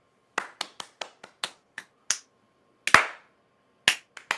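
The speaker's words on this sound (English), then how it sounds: "Why am I not getting a loud clap?" Hand claps made close to a microphone during a live stream, about a dozen sharp separate slaps in an irregular rhythm, loud and dry against near silence.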